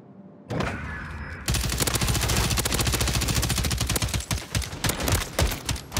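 A Bal-27 rifle fires in a video game, starting with a short burst and then breaking into long, rapid automatic fire. The shots are loud and dense, and they thin into separate quick bursts toward the end.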